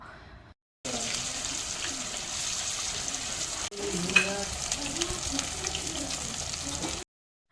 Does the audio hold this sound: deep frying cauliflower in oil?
yes